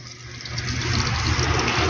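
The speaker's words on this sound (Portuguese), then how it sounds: "Tá entrando água dentro da lavadora." Water rushes steadily into a Samsung washer-dryer through its inlet valve, a continuous close hissing flow that grows slightly louder.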